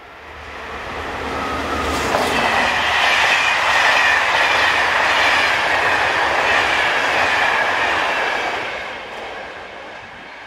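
An SNCF BB15000 electric locomotive hauls a Paris to Châlons-en-Champagne passenger train near Dormans, swelling into a loud, close rush with rhythmic wheel clatter before fading away as it passes.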